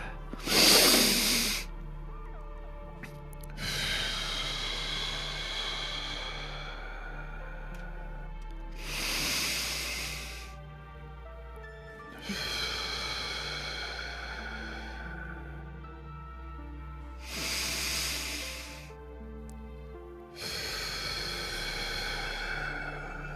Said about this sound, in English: take 3 nice deep breaths in through our nose, hold for a moment, and exhale through our mouth